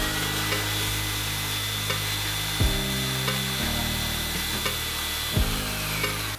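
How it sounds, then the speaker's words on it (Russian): A Stark JS 850 jigsaw runs steadily for a balance test, a loud continuous motor whine with a broadband buzz and a couple of brief dips in pitch, no talking. "проверю лобзик на балансировку."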